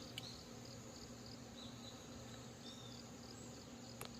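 A hairy hornet buzzes around an apiary's beehives, a faint continuous insect drone with a few brief higher whines, heard alone in a quiet outdoor setting.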